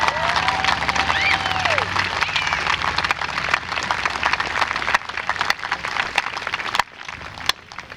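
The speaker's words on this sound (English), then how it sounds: "Can we have a round of a round of applause for Explorer House?" An audience at an 8th grade moving-on ceremony at Wilmington Middle School claps steadily in dense, sustained applause with a few whoops and cheers, thinning out toward the end.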